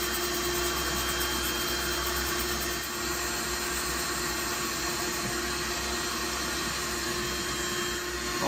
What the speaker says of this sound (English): Okay, we start now to sand.